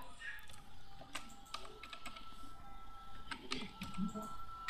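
Typing on a computer keyboard while entering a company name into an online logo-making tool, soft irregular key clicks close by over low room noise.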